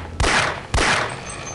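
Two sharp, loud gunshots from the video game Half-Life: Opposing Force, about half a second apart, each followed by a short decaying echo over a quiet game background.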